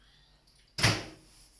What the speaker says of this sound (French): On s'en va vers le micro-ondes pour juste quelques secondes.